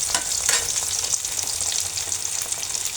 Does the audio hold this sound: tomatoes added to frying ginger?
yes